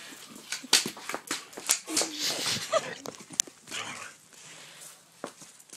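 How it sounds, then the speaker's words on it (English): Short electronic-sounding dog barks and yips from a phone game repeat in quick bursts, moderately loud, over a busy, noisy background. "I'm playing with a dog on my phone."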